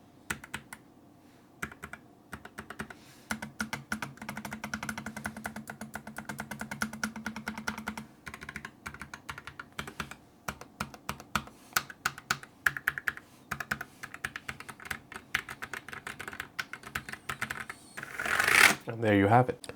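Keys clattering on a Keychron K3 Max mechanical keyboard, a roughly $100 board, in a steady run of close, solid clicks and clacks, with a louder burst of strokes near the end.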